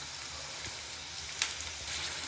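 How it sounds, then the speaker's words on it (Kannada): Onions and tomatoes fry in a pan for vangi bath, a steady broadband sizzle with one sharp stir or spatula tap midway. "ಈರುಳ್ಳಿ ಎಲ್ಲ ಫ್ರೈ ಆದಮೇಲೆ ನೋಡಿ ತುಂಬ ರೋಸ್ಟ್ ಆಗಿದೆ ಇದು"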